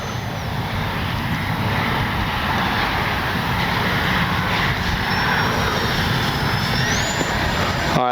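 An Arrows F4U Corsair RC model warbird makes a full-speed pass into the wind, a sustained loud motor roar with a whining tone that rises toward the end, heard without talk.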